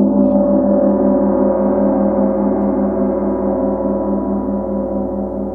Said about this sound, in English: I have a nice, large, heavy, but soft tam-tam mallet specifically designed for this instrument